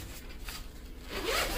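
A zipper runs along the compartment of a Tarion Pro XP camera backpack, one steady close pull that grows louder and brighter toward the end.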